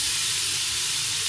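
Something fries in a pan of sunflower oil with butter to follow, a loud, continuous hissing sizzle that fills the whole moment, with no talk.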